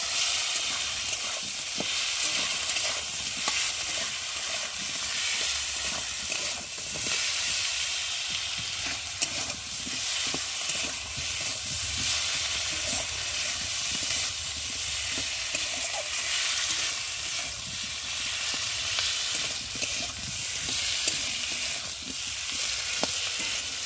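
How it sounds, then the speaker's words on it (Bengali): Turmeric, chili powder, ginger paste and cumin paste sautéing in hot oil for a jackfruit curry, giving a loud, steady, close sizzle that continues unbroken throughout with no talking. "হলুদ গুঁড়ো দেবো লঙ্কার গুঁড়ো আর দেবো আদা বাটা জিরে বাটা দিয়ে একটু ভালো করে কষিয়ে নেবো"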